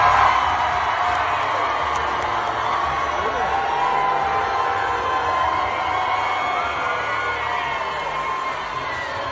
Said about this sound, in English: Here is the audio of Lisa Rinna getting booed